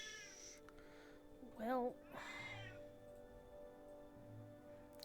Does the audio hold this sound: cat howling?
yes